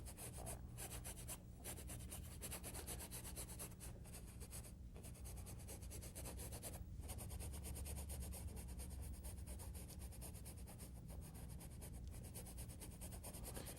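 A paintbrush scrubs paint across a canvas while blending moonlit snow, a steady close, soft rasping brush texture with brief pauses between strokes and no talking.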